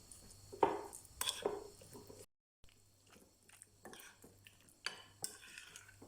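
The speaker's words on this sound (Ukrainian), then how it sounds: "додаємо сметану та майонез і перемішуємо все до однорідності" Sour cream and mayonnaise stirred into seasoned tomatoes in a bowl, a utensil scraping and clinking against the dish in irregular close strokes with soft wet squishing, a short silent gap midway.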